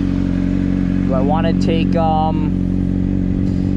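A Honda CBR600RR sportbike engine runs at a steady, close, loud drone throughout, while someone talks briefly over it.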